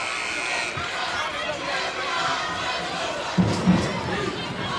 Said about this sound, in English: There's some of the enthusiastic Garfield crowd.